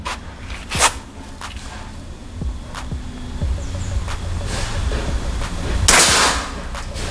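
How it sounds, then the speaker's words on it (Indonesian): A titanium PCP air rifle fires repeatedly, giving sharp snapping shots spaced a second or so apart with faint handling clicks between them. The shots are close and moderately loud, and the last is the strongest. "Sekarang saya akan menembak di bawahnya terus-menerus"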